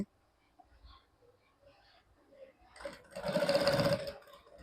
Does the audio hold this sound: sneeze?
no